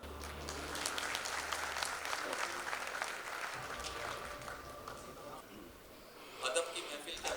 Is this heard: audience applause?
yes